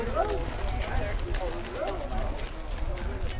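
Harness racing horses trot to the start of a junior trot at Knighton Races, with a steady clip-clop of hooves under a race announcer's voice over the public address.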